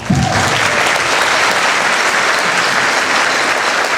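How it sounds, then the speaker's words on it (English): Loud, sustained applause from a large crowd, dense steady clapping that fills the whole stretch without letup. "You folks out there, give yourself a round of applause"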